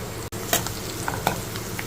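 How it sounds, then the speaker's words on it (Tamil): Chopped onions sautéing lightly in a pan give a soft, even sizzle, broken by a few sharp stirring scrapes and clicks. "வெங்காயம் லைட்டாக வதங்கினா போதும்"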